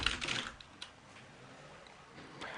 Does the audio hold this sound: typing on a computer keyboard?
yes